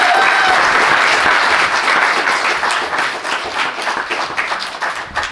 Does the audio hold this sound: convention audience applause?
yes